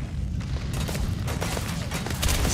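A tweaked gun in Starfield fires in a dense, continuous burst of rapid shots, loud and booming throughout.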